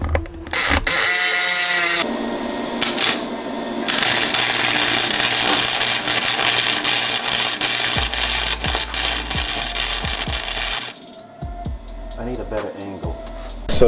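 A ratchet clicks in bursts while bolting down a welding station in a workshop, alongside mechanical rattles and tool noise. The clicking is close and loud, with pauses between runs.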